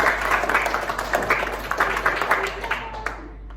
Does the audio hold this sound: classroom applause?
yes